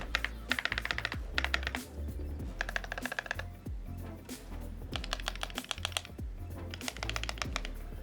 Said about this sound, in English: And then this is my newest keyboard build.